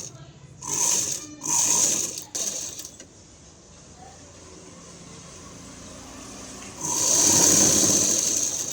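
A sewing machine stitches a lined blouse with piping in short whirring bursts: three quick runs, a pause of softer mechanical hum, then a longer, louder run of stitching close to the microphone.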